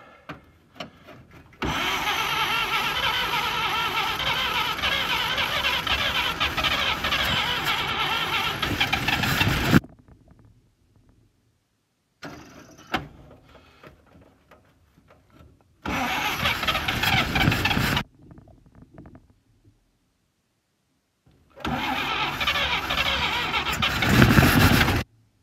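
A Chevrolet G506 truck engine fed by a gravity tank of gas to the carburetor starts and runs loud and steady, cuts out, then restarts in two more running bursts separated by near silence.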